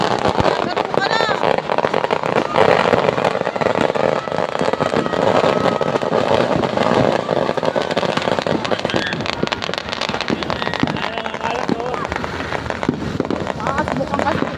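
Firecrackers exploding during New Year celebrations, a dense continuous crackle of pops under voices talking and calling out, loud and sustained throughout.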